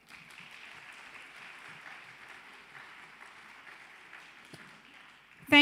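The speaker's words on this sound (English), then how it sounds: "So I'm going to ask for another round of applause." Audience applause for children at Sri Sathya Sai Baba's 100th birthday celebration, a steady, faint and distant patter of clapping across the hall that ends with a sudden loud knock.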